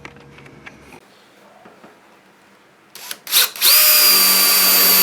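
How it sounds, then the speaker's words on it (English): A power drill bores a hole through the metal body of a Honda Odyssey to route a backup camera wire, giving a short test burst and then a loud, sustained whine up close after some quiet handling noises. "we're going to drill our hole so we can put that wire into the inside there"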